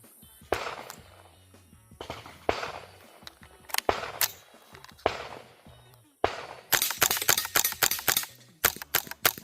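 Suppressed .22 gunshots through a HUXWRX Flow 22 Ti titanium suppressor on a Taurus TX22 Competition pistol: spaced muffled pops at first, then a quick run of snappier shots near the end, at moderate level outdoors.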